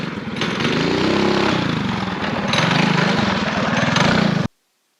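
A Coleman mini bike's small engine, fitted with a Nibbi carburetor and a 60-tooth sprocket, runs steadily nearby with a buzzing, lawn-mower-like drone that rises and falls slightly before cutting off abruptly near the end.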